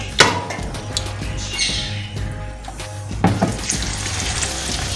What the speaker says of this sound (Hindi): अब मैं ये गरम ऑयल जो है इसके ऊपर गिरा रही हूँ ताकि ये ऊपर से भी अच्छा सा फ्राई हो जाए।